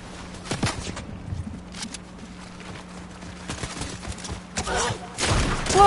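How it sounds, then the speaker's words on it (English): Scattered gunfire from players in a Fortnite duos match, sharp bursts and pops spread irregularly across the moment, some near and some farther off, mixed with game noise and a little voice. "Still got people shooting over here too"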